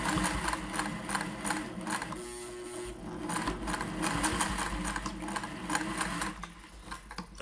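A vintage Singer 401a sewing machine stitching through thick layers of muslin at a hem, a steady rapid mechanical whir and needle clatter at close range, slowing briefly near the middle, with no talking.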